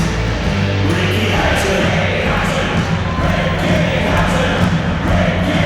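Huge boxing arena crowd of about 56,000 at a Ricky Hatton fight, a loud, dense roar of cheering and chanting that fills the space continuously without letup.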